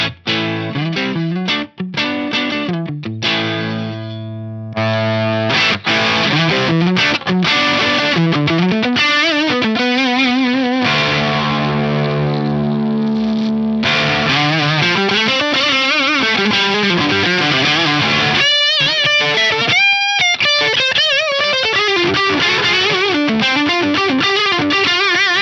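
An electric guitar with a humbucker on the neck pickup, played through the gain channel of a Marshall JCM800 2210 amp boosted by a Rev G3 pedal, sounds heavily distorted and loud, mixing chugging riffs, sustained notes and bends with no talking.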